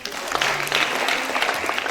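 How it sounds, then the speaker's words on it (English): Audience at a school National Librarian Day event claps in a sustained, dense burst of applause, moderately loud and close, with a few voices mixed in. "Can we clap for him?"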